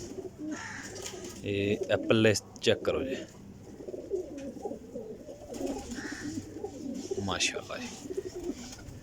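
A golden pigeon coos softly in repeated low phrases while someone talks nearby throughout.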